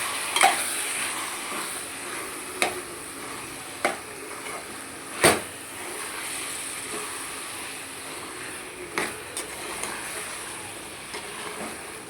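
Chicken curry seasoned with chilli powder, salt, turmeric, garam masala and fresh coriander is stirred in an oil-filled pan, giving a steady soft sizzle broken by sharp spoon scrapes and knocks against the metal, with no talking.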